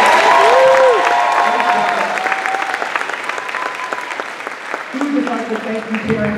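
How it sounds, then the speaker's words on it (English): Audience applause after a school second-grade Christmas performance: sustained, dense clapping from a crowd that gradually thins, with a voice speaking over it near the end. "gets another round of applause."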